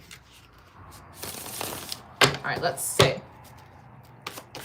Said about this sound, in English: Feels like you want a good shuffle,